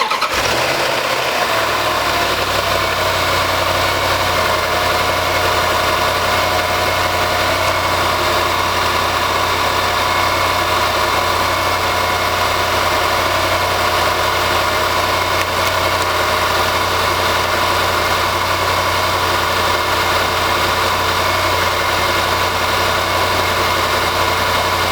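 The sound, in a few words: Land Rover/Jaguar 3.0L/5.0L engine idling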